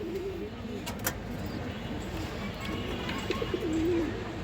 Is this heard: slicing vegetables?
no